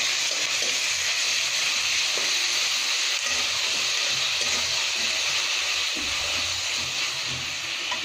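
Onion and garlic paste sizzles and hisses steadily in a hot pan for a quail curry, a close, continuous frying noise without pauses and no talking.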